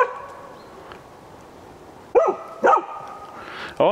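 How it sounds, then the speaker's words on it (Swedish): A hunting dog barks at wild boar in an enclosure, three short sharp barks spaced about half a second to a second apart over a quiet outdoor background, moderately close. "Hon får stå skälla ett tag"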